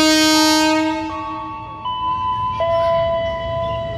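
Container freight train departing a station in Indonesia, heard as a loud sustained multi-tone horn that shifts pitch in steps and fades slightly, over low rumbling background.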